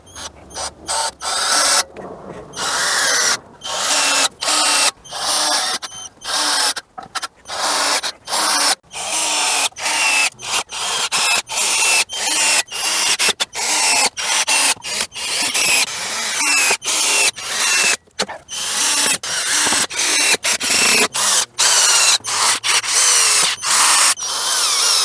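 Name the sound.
cutting treated 2x4 boards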